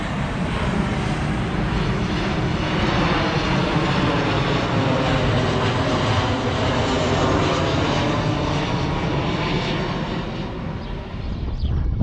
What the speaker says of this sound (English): Got a plane coming in.